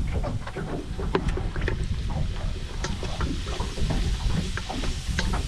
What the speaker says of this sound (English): I'm gonna throw in the garlic and the white onions here.